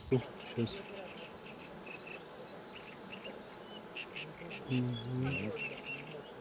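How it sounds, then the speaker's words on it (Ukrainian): Honey bees buzz steadily in the open air of an apiary with about 110 colonies, a close, dense drone with insects passing near, and faint talk and a few low sounds in the background. "Загалом на пасіці Антона 110 сімей, а це 50 тисяч бджіл."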